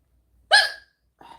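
Two hiccups from a person, a loud, sharp, close one followed by a softer, shorter one about half a second later, with near silence around them.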